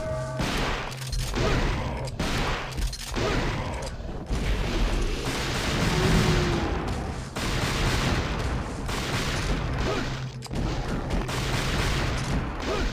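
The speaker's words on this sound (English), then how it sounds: "Just hit him with the shotgun." Shotgun blasts from Devil May Cry 2 gameplay ring out in a loud, repeated barrage of booming shots with brief gaps between bursts, layered over game effects.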